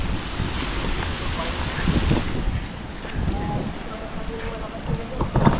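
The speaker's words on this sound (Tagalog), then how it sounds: "Lakas ng ulan tan." Heavy rain pours during a riverside flood, a dense steady wash mixed with wind buffeting the microphone, and occasional voices talking under the downpour.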